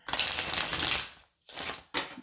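Tarot cards being shuffled in quick riffling bursts, a long crisp flutter followed by two shorter ones, close up with no talking.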